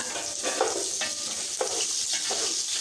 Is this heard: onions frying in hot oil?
yes